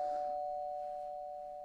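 A doorbell chimes once indoors with a clear, steady ringing tone that slowly fades over nearly two seconds, with no other sound around it.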